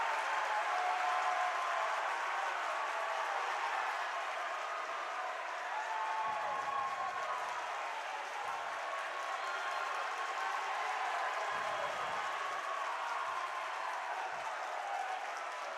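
Crowd at a high school boys basketball game between Layton and Davis, sustained cheering and applause as a broad steady roar, loud and continuous throughout with occasional louder swells.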